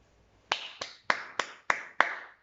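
A single person claps six times, sharp, close and dry, spaced about a third of a second apart in a quiet room.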